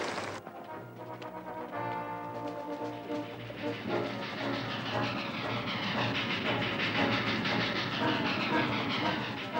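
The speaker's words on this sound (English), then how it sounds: "The train's coming." A train rumbles past close by in a Western TV drama, with a loud, steady metallic roar and rhythmic clatter of wheels that builds and holds throughout.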